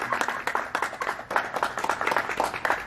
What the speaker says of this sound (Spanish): un fuerte aplauso para Alonso, familia